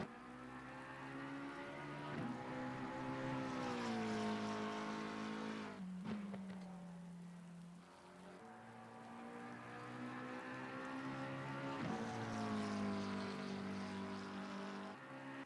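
A McLaren race car in Assetto Corsa Competizione at the Spa 24 Hours circuit, heard as a steady high engine drone that rises and falls through gear changes, fairly faint and continuous, with no talk.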